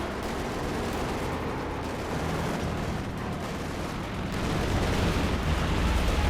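Bazooka rocket fire and explosions in the real-time strategy game Company of Heroes 2, a continuous dense roar of gunfire and blasts that swells slightly louder toward the end, with no talking.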